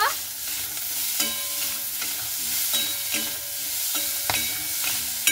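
Flat beans frying with salt and turmeric in a pan, stirred repeatedly, giving a steady sizzle broken by rhythmic scraping and clattering strokes of a spatula, close and fairly loud, with no speech.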